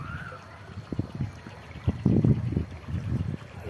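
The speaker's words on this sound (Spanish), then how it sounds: "cómo está el caudal de agua del río Cañaveralejo" The Cañaveralejo river in Siloé, Cali, flows steadily with a low rushing and gurgling, interrupted by bursts of nearby splashing and trickling.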